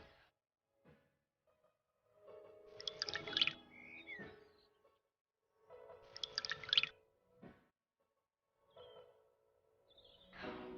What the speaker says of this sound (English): Now I will pour milk into these glasses.